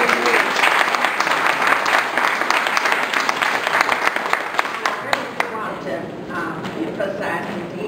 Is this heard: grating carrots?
no